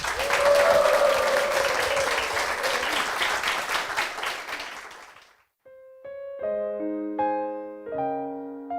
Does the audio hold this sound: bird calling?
no